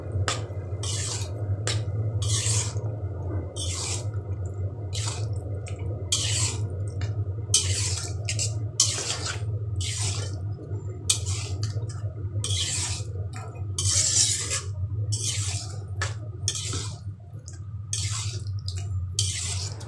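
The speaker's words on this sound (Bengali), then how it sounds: "এখন আমি সেদ্ধ করে রাখা আলুগুলো দিয়ে দিব, দিয়ে মাংসের সাথে খুব ভালোভাবে মিশিয়ে নেব" Boiled potatoes being mixed into beef in a pot for a traditional Bogura dish, with repeated wet squishing and scraping strokes in a steady rhythm over a low constant hum, close with no talking.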